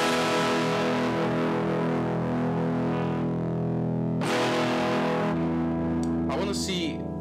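Electric guitar played through distortion and chorus effects units, producing sustained harmonic tones that shift and swell, with a sharper burst of brighter notes near the end; no one speaks.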